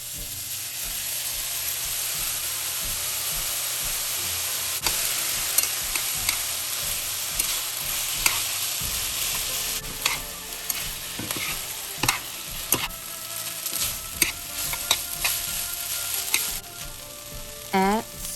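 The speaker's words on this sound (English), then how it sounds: "Stir for a couple minutes, then add in the sauce." Chow mein noodles with Chinese sausage stir-fried in a hot pan, a steady close sizzle broken by repeated scraping and clattering strokes of a utensil, growing busier toward the end.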